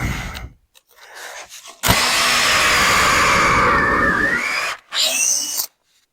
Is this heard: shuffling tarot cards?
no